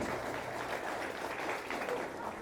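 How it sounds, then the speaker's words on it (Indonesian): Applause from a crowd at a PDI Perjuangan political speech in Indonesia, a faint, steady, diffuse patter of clapping heard from a distance with no individual claps standing out. "tepuk tangan yang meriah buat kita semuanya"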